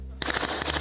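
Rapid burst of airsoft gunfire during an outdoor roleplay skirmish, a dense run of sharp close shots following a short quiet lead-in and continuing steadily to the end.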